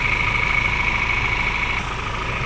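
A Ford Ranger engine idling during an oil flush, a steady mid-pitched hum with a constant high whine on top, running evenly and close throughout with no talking.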